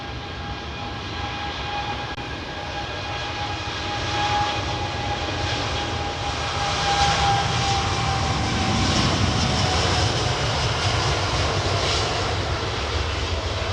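Aircraft engines roar at Heathrow Airport during arrivals and departures, where Airbus A380s are among the traffic, a loud sustained jet rumble with whining tones that swells as a plane passes close by.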